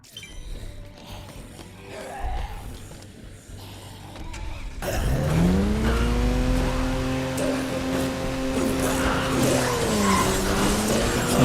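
A car speeds along in the Dead Rising 2 zombie video game, engine revving loudly with rising and falling pitch and tire squeal, after a quieter stretch at the start.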